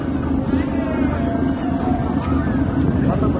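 A ferry ship striking a harbor pier in Ternate, heard as a steady, loud engine and water rumble with wind buffeting, while excited voices talk over it throughout.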